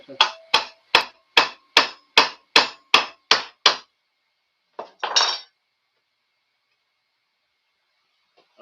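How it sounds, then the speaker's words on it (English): Nine sharp, evenly spaced hammer strikes ring out in quick rhythm, followed by a pause and a couple of louder, scraping metallic knocks. "Need my hammer."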